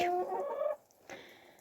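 A rooster gives a short harmonic call followed by a softer cluck, close by with no talking.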